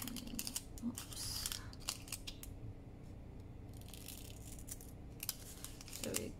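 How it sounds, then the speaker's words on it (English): Scissors snip through the flap of a paper envelope while making mini craft envelopes, giving a run of close, crisp cutting clicks and rustles at an uneven pace with no talking. "You just cut them this way."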